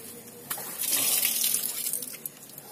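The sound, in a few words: draining radiator water from Suzuki Esteem car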